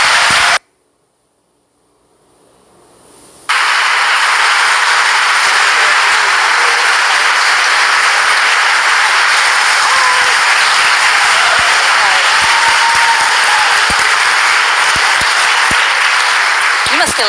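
Sustained, loud applause from an audience welcoming two women onto a stage for an evening conversation event, a dense steady roar of clapping that continues unbroken after a brief quiet start.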